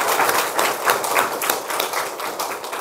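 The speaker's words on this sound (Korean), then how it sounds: "우리 박수 한번 하시겠습니다" A church congregation claps together during a Korean Sunday worship service, honoring group leaders; many hands give a loud, fairly brisk clatter of individual claps that runs on steadily throughout.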